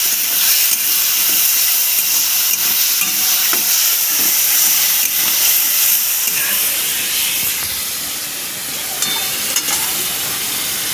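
Ginger garlic paste hits hot oil in a pan with Kashmiri chilli powder while cooking ghugni with prawns, a loud, close, continuous hiss and sizzle that eases slightly toward the end.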